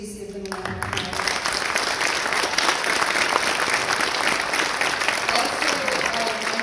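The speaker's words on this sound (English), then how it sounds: "so if we could please give them a round of applause" Applause for winning artists at a Santa Fe Indian Market awards presentation, a full crowd clapping steadily and loudly after a brief spoken line at the start.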